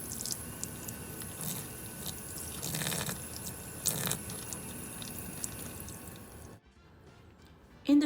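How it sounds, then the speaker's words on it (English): Water pours and trickles steadily onto the soil of a newly planted purple shamrock (Oxalis triangularis) for several seconds with a few splashy bursts, then stops abruptly into near silence. "Then at the end, just water the plant."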